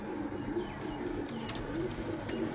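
Teddy pigeons coo softly in low, rolling repeated phrases amid a gentle flock ambience, fairly quiet and steady throughout, with no voices.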